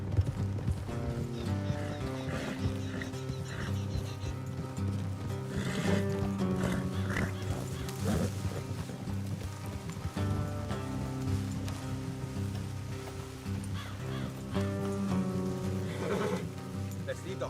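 Steady clip-clop of horses moving at a trot in the video game Red Dead Redemption 2, beneath a dense bed of game music, with a brief whinny and some talking mixed in.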